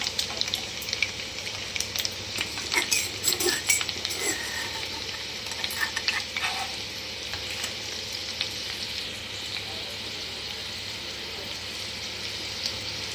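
Asafoetida hits hot oil already holding cumin and garlic pieces, a soft steady sizzle and frying crackle in a pan, fairly quiet and continuous with a few stirring clinks.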